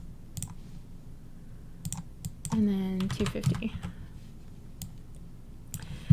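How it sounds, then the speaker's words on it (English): Short bursts of keystrokes on a computer keyboard while a font size is entered, light clicks scattered through the clip beneath a brief spoken phrase in the middle. "So I'm going up to the top here and just typing in 250 for font size."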